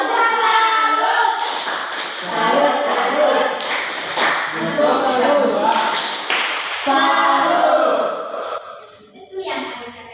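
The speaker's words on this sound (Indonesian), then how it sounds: "Tepuk salut untuk kita semua." A group of children in an Indonesian primary school class performs the 'tepuk salut' patterned clapping routine, rhythmic bursts of claps mixed with chanting voices, fairly close and loud, ending with a brief pause and a final burst.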